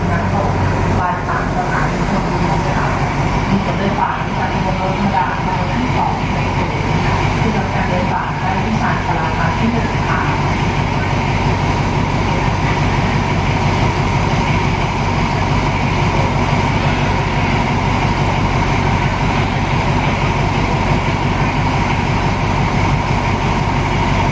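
Ordinary train 260 from Namtok to Thonburi at Salaya station, a steady low engine rumble with rolling rail noise throughout, close and continuous, with people talking over it.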